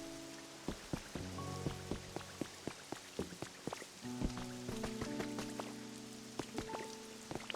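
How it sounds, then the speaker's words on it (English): Rain pattering in the Pokopia video game, a steady wash of falling water with many sharp droplet taps on surfaces, alongside soft tonal game music, with no talking. "You're letting in all the rain."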